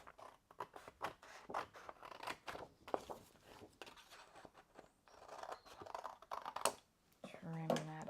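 Scissors snipping through scrapbook paper in a run of quick, close, sharp cuts with brief pauses, followed by a short rustle at the end.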